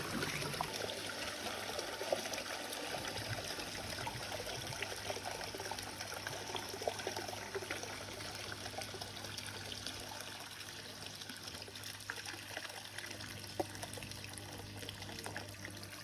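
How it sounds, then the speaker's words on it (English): Water trickles steadily out of a pool vacuum being filled before vacuuming a pool, a soft continuous dribbling and splashing at low level with a faint steady hum beneath, no voices. "So you can see water dripping out of the vacuum."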